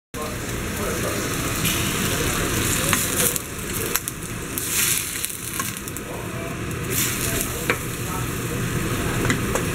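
Chicken sautéing in a pan with garlic, onion and tomato gives a constant loud sizzle and frying hiss, close up, with occasional stirring scrapes throughout.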